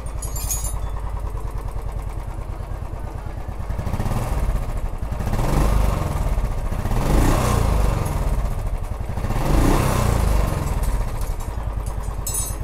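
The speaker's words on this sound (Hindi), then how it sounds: "अब बाइक को स्टार्ट करेंगे तो चलिए आपको दिखाता हूँ।" A Royal Enfield BS6 motorcycle engine runs at a steady thumping idle, close by, with a few swells as the throttle is blipped; no voices.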